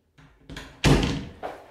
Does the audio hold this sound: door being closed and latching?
yes